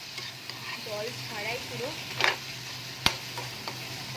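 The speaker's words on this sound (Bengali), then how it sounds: "ভালো করে মশলাটাকে কষিয়ে নেব" Spice masala and tomatoes, cooked without water, are stir-fried in a wok with soft, quiet sizzling and light scraping strokes. A sharp clack of the spatula is heard, and a voice speaks briefly.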